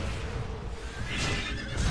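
A horse neighs in the MU Online video game during a castle siege, a short whinny over a busy, noisy in-game background, fairly faint in the mix.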